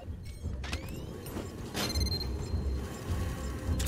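Door locks unlocking in the video game Aliens Fireteam Elite, a mechanical sequence of ratcheting clicks, creaks and metallic whirs over a steady rumbling background, with no voices.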